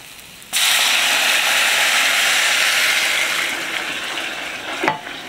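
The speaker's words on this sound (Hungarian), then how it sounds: "és most hozzáöntöm a vizet" Water poured into a hot pan of toasted basmati rice sets off a sudden loud sizzling hiss that rises abruptly, holds strong and steady, then eases slightly, with a small clatter near the end.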